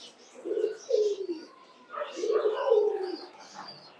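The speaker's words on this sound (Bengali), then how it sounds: "এরাও খুব অ্যাগ্রেসিভ পায়রা, দেখুন।" Aggressive pigeons in a farm loft give two bursts of deep, throaty cooing, fairly close, with faint higher chirps between.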